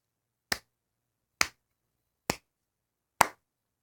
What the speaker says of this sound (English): Yeah, that's actually me clapping.